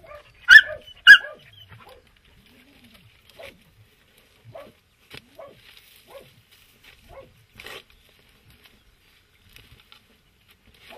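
A hunting dog barks during a beaver hunt with dogs outdoors: two sharp loud barks close together near the start, followed by faint scattered rustles and distant yips in quiet surroundings.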